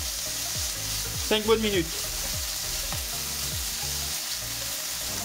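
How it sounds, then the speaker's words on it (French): Lardons frying gently over low heat in a frying pan, a steady close sizzle with soft crackles, and a brief stretch of speech partway through. "on va y faire revenir nos lardons dans un premier temps. Allez, à feu doux,"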